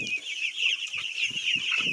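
Chickens in a farm flock cluck in short bursts, with hens and a few remaining roosters calling close by over a steady high-pitched background of birds or insects.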